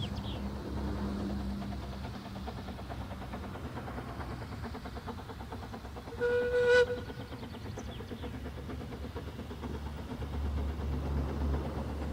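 A train on the Ffestiniog Railway in North Wales rumbles steadily at a distance, with a brief whistle sounding midway before the low rolling noise continues.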